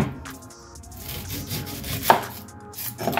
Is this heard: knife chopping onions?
yes